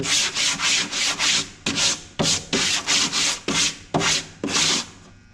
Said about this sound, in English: then it fits in these little slots, and then you can hand sand it